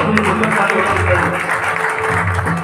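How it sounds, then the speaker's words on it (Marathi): An audience at a devotional bhajan performance in Sindhudurg claps loudly and continuously, a dense wash of applause with a voice speaking over it. "माझ्या सिंधुदुर्ग वासियांनी जोरदार टाळ्या"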